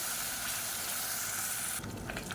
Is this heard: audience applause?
no